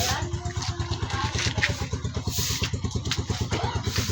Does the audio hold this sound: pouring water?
no